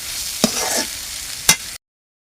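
Flat beans being stir-fried in a pan, a loud close sizzle broken by two sharp spatula scrapes against the metal, no voices.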